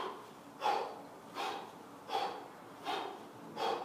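Heavy, rhythmic breathing during endurance weight training, five sharp exhalations about a second apart, close and clear with quiet pauses between them.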